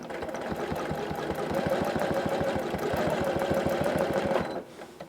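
Janome CM17 sewing machine running steadily during ruler quilting at a longer stitch length, a fast even mechanical chatter close up for several seconds before stopping abruptly.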